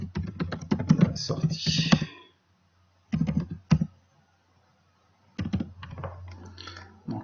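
Computer keyboard keys clicking in quick bursts of typing, heard close up between stretches of French speech, with silent pauses between the groups of keystrokes.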